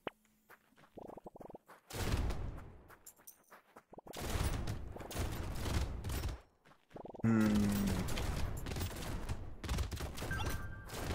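Rapid continuous gunfire from the video game Brotato, dense bursts of shots in long loud stretches separated by brief quiet gaps.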